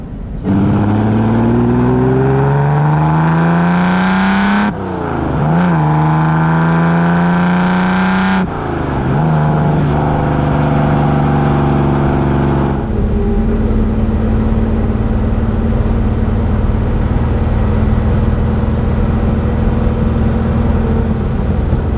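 A 1965 Lamborghini 350 GT with an aluminium body and a 320 hp 4-litre V12 revs hard several times, each rising howl climbing in pitch, before settling into a loud, steady, rumbling drone close by.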